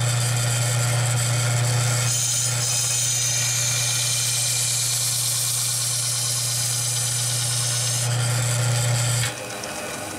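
A blade is ground on a Kalamazoo belt sander fitted with a Tormek jig. The steady motor hum and the abrasive hiss of steel on the belt run unbroken for about nine seconds, then stop.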